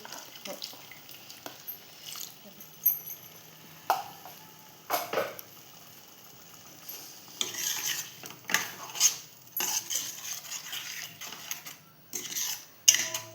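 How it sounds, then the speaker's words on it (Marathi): Water splashes and sloshes as a mixer jar is rinsed, with intermittent clinks and knocks of the container, quiet and close, coming in short bursts. "मिक्सर धुवून पाणी घेऊया."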